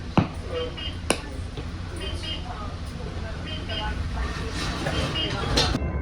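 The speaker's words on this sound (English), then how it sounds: "Doors closing, train departing." A departing commuter train rumbles and hums steadily, building slightly in loudness, with a couple of sharp clicks near the start and voices murmuring faintly underneath.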